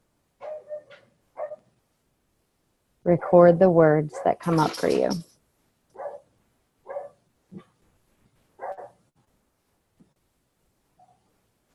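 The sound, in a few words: dog barking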